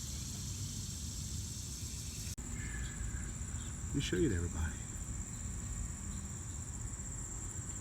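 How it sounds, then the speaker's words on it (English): A cicada in a summer garden sends out a constant high, dense buzz that runs through the whole stretch, steady and fairly loud, while a person speaks briefly nearby. "This is a cicada."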